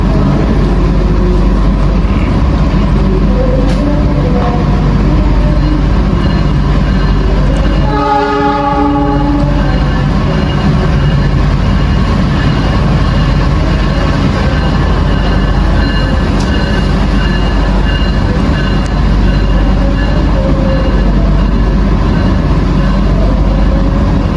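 The Kaligung passenger train from Cirebon to Semarang departs with a loud, continuous rumble of wheels and carriages close by, and a horn sounds once partway through.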